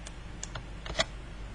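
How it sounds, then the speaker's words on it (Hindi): A computer keyboard being typed on during a firewall configuration walkthrough, a handful of crisp key clicks spread over about a second and a half, ending in one slightly louder keystroke like an Enter press, close and alone. "एंटर करता हूँ।"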